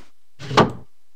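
A knock on a door in the video game Dark Fall comes as a single muffled, fairly quiet wooden thud in an otherwise silent moment.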